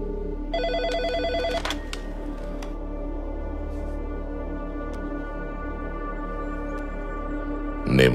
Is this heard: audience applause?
no